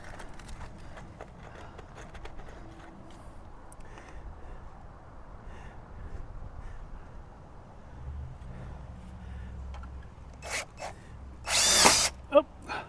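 A power drill drives screws while flower beds are built. Low background noise gives way to a few short whirring bursts near the end, followed by a louder, longer burst close by.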